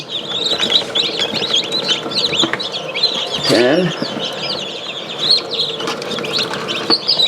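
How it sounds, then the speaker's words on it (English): Many newly hatched chicks peep continuously in a hatcher, a dense chorus of high chirps close by, with a louder burst of clucking or lower calls midway. "There are a lot of chicks in there."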